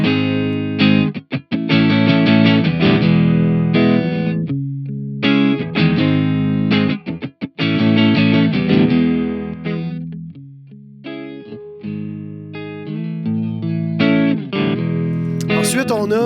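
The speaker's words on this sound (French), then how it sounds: "Tube Screamer classique." Electric guitar through a classic Tube Screamer overdrive pedal, playing loud crunchy chords and riffs with short pauses between phrases and a few sustained notes toward the end.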